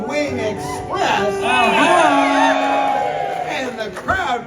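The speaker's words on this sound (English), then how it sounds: "And the crowd goes wild." A crowd at an RV rally cheers, whoops and shouts loudly and continuously for a few seconds, a dense mass of close voices rising and falling together.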